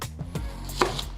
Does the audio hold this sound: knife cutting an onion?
yes